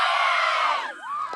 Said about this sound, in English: take me out with a cheer